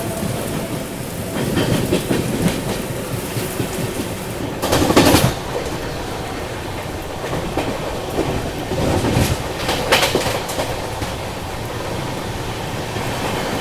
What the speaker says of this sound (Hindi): शायद से जीटी हो सकती है, गुड्स ट्रेन है